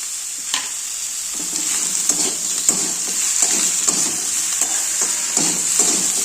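Chopped vegetables with beans fry in a pan under a constant sizzle, while a spoon scrapes and turns them in repeated strokes close by. No voices are heard.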